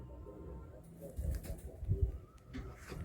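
Laldom and Giribaz pigeons cooing at close range, low throaty coos rising in a few soft swells over faint room noise, with murmured human voices in the background.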